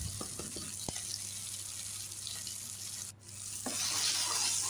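Beetroot fries with garlic paste in a pan, a soft, low-level sizzle with a few light clicks and stirring scrapes, the hiss swelling slightly toward the end.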